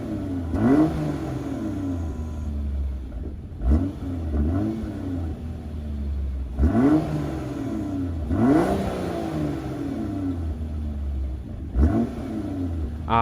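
A 2013 Volvo S60 T6 R Design with a resonator-delete exhaust revs repeatedly, each throttle blip rising and falling in pitch over a steady idle, with several spaced revs across the stretch.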